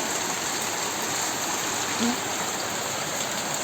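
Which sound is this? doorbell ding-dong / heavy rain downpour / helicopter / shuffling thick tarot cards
heavy rain downpour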